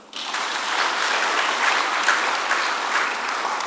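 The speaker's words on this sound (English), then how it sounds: "Can we clap for him?" Audience applause at an annual public lecture at the University of Education, Winneba, a dense, steady roar of many hands clapping that starts abruptly and stays loud throughout.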